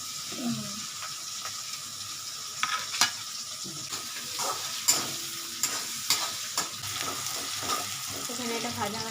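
Tilapia fish fries in a pan, a constant close sizzle broken by sharp scraping clicks of stirring, with a faint voice in the background.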